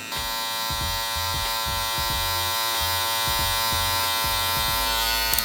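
Electric hair clippers with a 1/2 guard buzz steadily through a low taper haircut, a continuous close hum with rhythmic dips and surges as the blade passes through hair, heard alone without talk.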